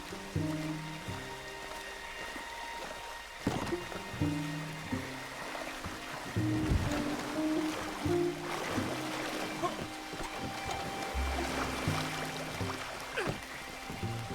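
Water flowing and splashing around a canoe on a river in Red Dead Redemption 2, a steady stream-like wash under game music, with occasional nearer splashes.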